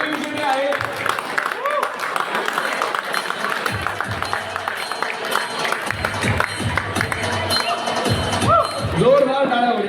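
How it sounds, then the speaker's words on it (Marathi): Loud, continuous applause and crowd noise fill a Ganesh festival prize ceremony held by a Maharashtrian community group in Ireland, with scattered voices mixed into the steady clapping. "जोरदार टाळ्या होत्या"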